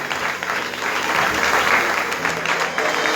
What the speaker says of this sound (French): continue à applaudir